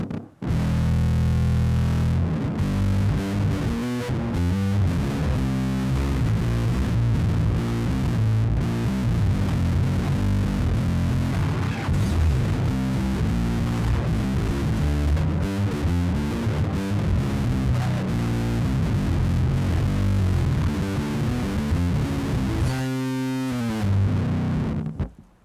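An electric guitar plays through a VVCO Afterlife fuzz pedal with bass distortion engaged, producing a thick, saturated, buzzing tone in continuous loud phrases that stop abruptly near the end.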